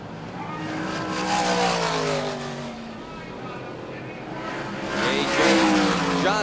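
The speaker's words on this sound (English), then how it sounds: "This is the furthest dirt stock cars have ever gone on a mile in this event." Dirt stock cars racing on a one-mile dirt track during a long-distance event, engines roaring steadily and swelling as cars pass, with crowd-like noise and a voice talking over the racing.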